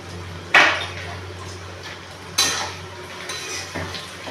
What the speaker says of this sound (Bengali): নাড়তে নাড়তে খুব লাল না হওয়ার আগে নাড়তেই থাকতে হবে।